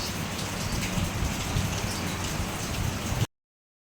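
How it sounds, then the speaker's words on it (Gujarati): Heavy rain pouring steadily in a Gujarati village, a dense unbroken roar of drops close by that cuts off abruptly near the end. "વરસાદ બહુ જ છે"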